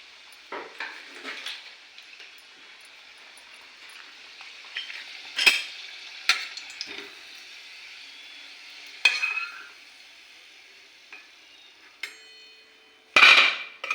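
Matar kachori deep-fry in oil with a faint, steady sizzle, broken by a few sharp clanks and taps of a utensil against the pan, the last one loudest near the end.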